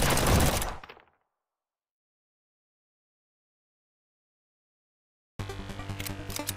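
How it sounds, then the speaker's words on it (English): Assault rifle fire in the Zomb Bomb video game, a loud rapid burst for about a second that cuts to silence, then dense, busy game sound returns near the end. "Assault rifle."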